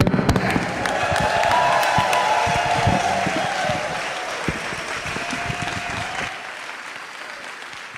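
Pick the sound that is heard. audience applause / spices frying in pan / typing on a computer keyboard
audience applause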